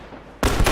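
A single sharp, loud gunshot in The Last of Us Remastered bursts out abruptly after a quiet moment and rings briefly.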